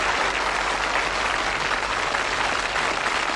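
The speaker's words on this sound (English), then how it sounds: "Give them a nice warm round of applause because they've done very well." A studio audience on the 1981 darts game show Bullseye gives contestants a warm, sustained round of applause, a thick even wash of many hands clapping without talk.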